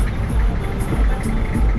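Inside a crowded matatu minibus in Kenya, a steady low engine rumble and road hum fills the cabin, loud and continuous with slight pulsing.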